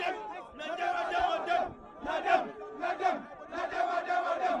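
A huge crowd of protesting students marches toward the RTS offices from the Place de la Nation, chanting in loud rhythmic bursts with short pauses between shouted phrases.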